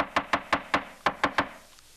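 A hair stacker is knocked against a table while a Golden Stone stonefly dry fly is being tied, giving eight quick, close, dull knocks in a fast, slightly uneven rhythm.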